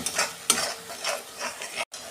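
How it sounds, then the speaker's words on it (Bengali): Spice paste with turmeric and salt stir-fried in a pan for a fish dish, soft sizzling under repeated scraping strokes of a spoon, ending in a brief silence. "এই মশলাটাকে আমি এবার ভালো করে কষাবো"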